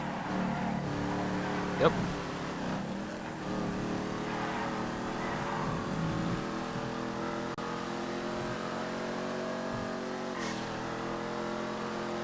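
A Dominator muscle car in FiveM races with a sustained engine drone whose pitch climbs and shifts through the gears, steady and fairly close, while a voice speaks briefly over it.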